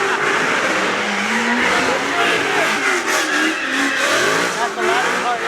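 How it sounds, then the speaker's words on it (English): A very loud Formula Drift car engine revs hard with squealing, skidding tires at a drift event, sustained roaring close by, with voices faintly mixed in. "That's the loudest car in the world"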